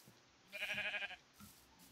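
Sheep bleating on a farm in the Minecraft video game: a single drawn-out, wavering bleat near mid-clip, fairly loud against a quiet background, followed by a faint lower sound.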